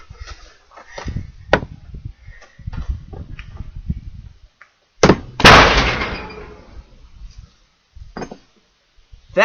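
An axe splits knotty wood near a garage, with a sharp crack and a loud bang as a chip strikes the garage door midway, followed by a fading rattle and scattered softer knocks.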